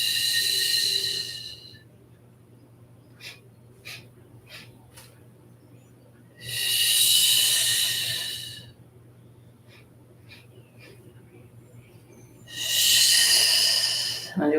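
Long, forceful breathy exhalations from a qigong practice for tight neck and shoulders, three broad hissing breaths spaced evenly several seconds apart, with soft rustling and clicks in the quiet gaps.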